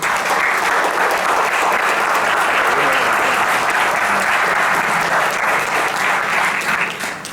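Strong, continuous applause from a student audience greeting the panel speakers at a university debate on a youth labor law, dense clapping at a steady level that fades slightly at the very end.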